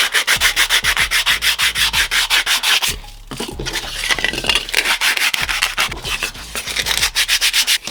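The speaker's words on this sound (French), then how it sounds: "On va tout poncer." Cut pieces for a planted terrarium sanded by hand, a close, loud rhythmic scraping of rapid back-and-forth strokes, pausing briefly midway before the steady rubbing resumes.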